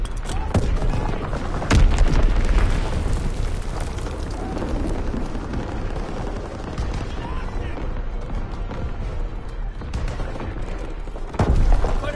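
Bombing run explosions in the World War II shooter Call of Duty WWII rumble as a continuous loud roar of blasts and booms, with sharper bangs punctuating the barrage near the start and end.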